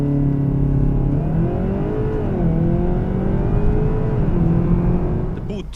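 A Seat Leon Cupra 300 4Drive engine revs steadily with a deep, throaty tone, pitch rising and falling through mid revs, loud and close, then easing off at the end.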